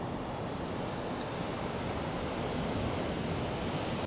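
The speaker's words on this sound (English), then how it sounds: "the waves are so loud and such a white noise" Surf rolls continuously onto a shore, a dense wash of white noise with no breaks or voices, steady and moderately loud throughout.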